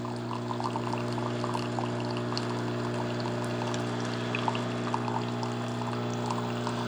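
An Instant Pot 2-in-1 K-Cup coffee maker dispensing brewed coffee on its bold setting, a steady close trickle of liquid over a constant machine hum, running evenly throughout.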